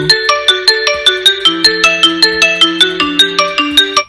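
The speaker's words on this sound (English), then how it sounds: "I can ping my phone." A bright electronic ringtone melody from a phone pinged by a Xiaomi Watch S3 chimes in a steady repeating pattern of quick tones, loud and close, with no talking.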